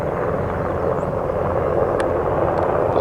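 A Black Hawk helicopter passes overhead as a steady, broad rotor-and-engine roar, moderately loud and unbroken throughout.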